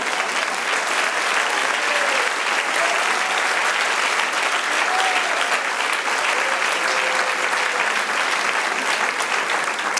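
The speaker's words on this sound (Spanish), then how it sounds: "Dale aplauso al Señor." Church congregation applauding together, a dense, steady wash of clapping hands filling the whole stretch, loud and continuous with no pauses.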